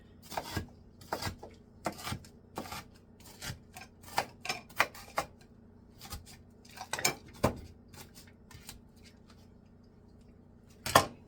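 A knife chops food into smaller pieces on a flexible plastic cutting board, with sharp irregular taps and scrapes spaced a fraction of a second apart, close and clear, with no talking.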